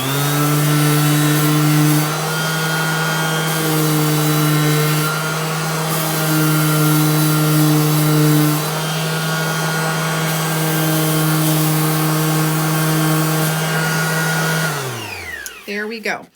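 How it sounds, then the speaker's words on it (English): An electric sander runs on wood during a craft project, a loud steady motor whine with a strong low hum that holds for about fifteen seconds before spinning down at the end. "I'm just going to grab my electric sander"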